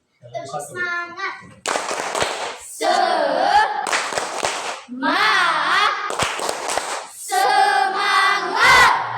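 Group spirit clapping, tepuk semangat, during an ice-breaking activity: quick patterned clap bursts between loud shouted group chants, near and lively.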